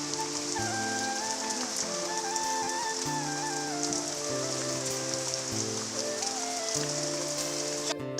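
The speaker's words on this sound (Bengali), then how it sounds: "আর এদিকে দেখো কি পরিমাণে বৃষ্টি হচ্ছে।" Heavy rain falling steadily, a dense even hiss of drops on surfaces under a sustained musical background, with no talking.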